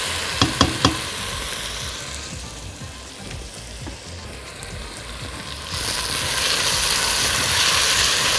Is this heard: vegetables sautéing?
yes